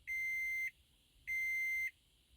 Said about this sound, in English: Dashcam's powering on.